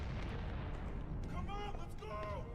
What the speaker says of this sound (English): At least that's what the screaming and explosions would indicate to me.